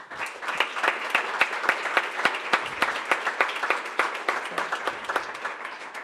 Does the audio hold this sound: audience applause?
yes